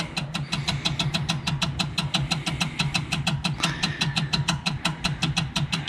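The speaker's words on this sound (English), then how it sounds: "The engine turns and we have fuel." The engine of a 1961 Morris Minor pickup turns over on the starter without firing, a steady rapid rhythmic chugging with regular clicking pulses, close and continuous throughout.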